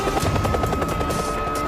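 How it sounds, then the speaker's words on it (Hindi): A helicopter arriving at a test site, its rotor beating in a loud, steady, fast chop with a droning engine tone, close and continuous throughout. "हेलीकॉप्टर सही समय पर पहुंचता है और टेस्ट शुरू करने का इशारा करता है।"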